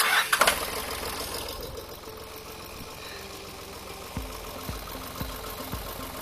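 A Yanmar F475 tractor's three-cylinder, naturally aspirated engine cranks and fires up, then settles into a lumpy, knocking idle with a steady low chug and occasional small surges.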